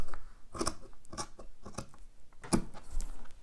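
Scissors snip through fleece fabric to cut a fringe on a scarf, a series of close, crisp crunching cuts in uneven rhythm with no talking.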